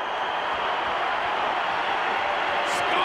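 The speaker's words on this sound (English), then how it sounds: "Scotty hearing it from the crowd." A wrestling arena crowd roars in a dense, sustained wash of cheering and chatter at a steady high level, with no breaks across the stretch.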